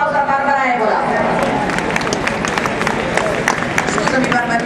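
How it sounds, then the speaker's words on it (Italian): Audience at an outdoor rally clapping, a dense spread of many hands with sharp scattered claps, loud and close, mixed with crowd murmur and voices. "Facciamo un altro applauso a Barbara Evola."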